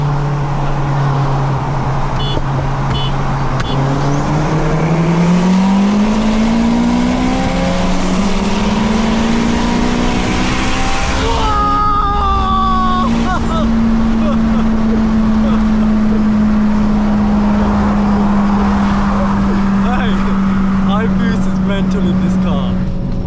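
A turbocharged 500 bhp Honda Civic FN2 Type R engine roars and climbs steadily in pitch under hard acceleration on high boost, loud and close, with a shift partway through and continued pulling.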